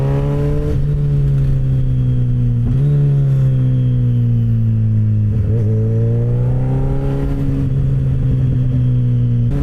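A Suzuki Hayabusa engine drones loud and close through Sunday traffic, its pitch climbing and dropping as the rider works the throttle and shifts, steady with no talk.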